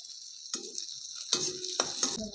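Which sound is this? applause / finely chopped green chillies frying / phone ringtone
finely chopped green chillies frying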